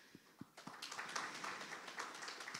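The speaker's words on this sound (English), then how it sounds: "You should stand up so we can give you a little clap." A Sunday congregation claps for youth leaders standing at a Youth Sunday worship service: a few scattered claps first, then a brief, moderately quiet burst of applause filling the room.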